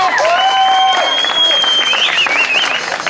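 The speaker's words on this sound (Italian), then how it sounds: "Un applauso per il nostro Arcangelo." Applause from spectators at an awards moment of a slalom motorsport event in Bagnara Calabra, steady clapping with a loud rising whistle or cheer-like tone over it and some crowd noise.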